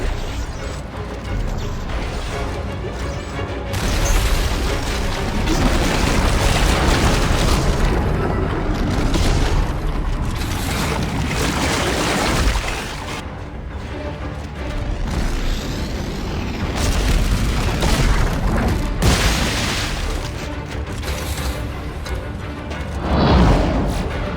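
Explosions and heavy mechanical crashes from the video game Dead Space 3, a loud continuous barrage of booms and rumbling impacts, with a sharp final burst near the end.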